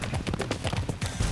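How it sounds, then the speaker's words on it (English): Hooves of two Lusitano horses clip-clop in a quick, uneven run of close, fairly loud beats at a stunt-riding yard in Nottinghamshire. "Meet Dante and Cuba, both Lusitano horses from Portugal"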